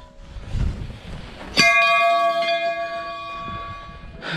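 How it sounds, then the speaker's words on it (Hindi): A metal temple bell at a mountain shrine on a Himalayan trek in Uttarakhand is struck once, close and loud, ringing with a bright clang that decays slowly over several seconds. "पहले एक बार टेंपल पे घंटी बजा लें।"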